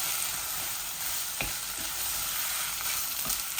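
Basmati rice fries in a pan for keema biryani, giving a loud, steady sizzle with occasional scraping stir strokes and no voices.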